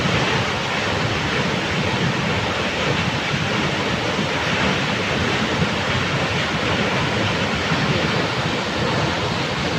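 Steady, unbroken roar of a waterfall fed by melting mountain snow in Norway, a broad rushing wash with no pauses and no voices.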